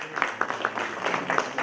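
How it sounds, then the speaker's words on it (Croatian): Applause from an audience at a civic gathering of a Croatian cultural society, a run of fairly steady clapping with several louder bursts across the short stretch, no voices over it. "Hvala, može još jedan aplauz."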